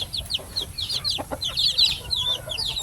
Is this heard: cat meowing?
no